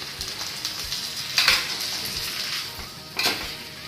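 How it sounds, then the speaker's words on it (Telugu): Chopped tomato pieces frying in a pan for tomato chutney, a steady close sizzle with two brief louder bursts of stirring or spoon scrapes, no talking. "వేగింది టమాటా ముక్కలు"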